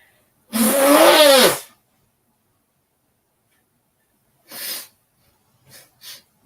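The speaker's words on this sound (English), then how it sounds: "I gotta blow my nose again." A single loud, long nose blow into a tissue, followed after a pause by a few shorter, fainter sniffs and snorts.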